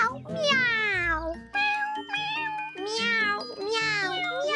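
A voice imitates a kitten's meow in a series of high, sliding mewing cries, repeated several times close to the listener, with faint background tones underneath.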